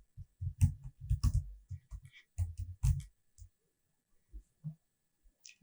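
Clicks and taps from a computer mouse and keyboard while working in web software, a cluster of close, dry clicks in quick irregular bursts that thin out to a few scattered clicks.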